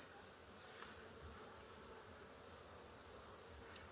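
Honeybees, mostly worker bees with a few drones, droning steadily at an open hive; a continuous, even insect hum with a high whine stays constant throughout, with no voices.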